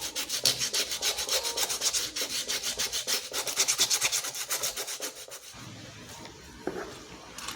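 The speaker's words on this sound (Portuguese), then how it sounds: "na hora de que vocês forem lixar a boca do vaso" Sandpaper rubbed against a cold porcelain vase in fast, even back-and-forth strokes, a close, steady scratchy rasp that eases into softer, quieter sanding near the end.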